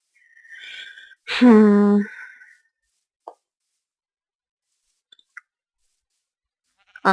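Sheep bleating in Minecraft: one short, clear bleat stands out early, among a few soft plops and small clicks scattered through an otherwise quiet stretch.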